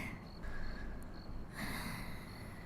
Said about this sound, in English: the quiet night with only crickets and nature sounds just living